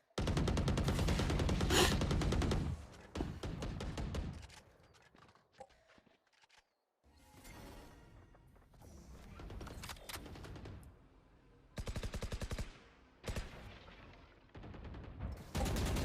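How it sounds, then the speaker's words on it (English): Bursts of rapid video game gunfire from a professional esports match crackle in clusters, some loud and close, others faint and distant, separated by quieter stretches and a few scattered single shots. "the sound of gunshots as they're trying to deal with said utility"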